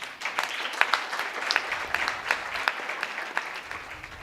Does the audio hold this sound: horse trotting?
no